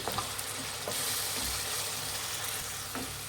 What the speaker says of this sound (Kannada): ಗ್ರೀನ್ ಮಸಾಲ ಅದನ್ನು ಹಾಕ್ತಾ ಇದ್ದೀನಿ ಇದಷ್ಟು ಫ್ರೈ ಮಾಡಿ